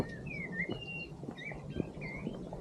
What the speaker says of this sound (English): I can hear birdsong